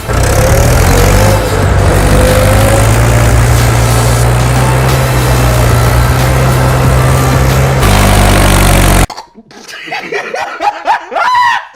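A tractor engine runs steadily and loud, its low rumble constant for about nine seconds before cutting off, after which people talk and laugh nearby.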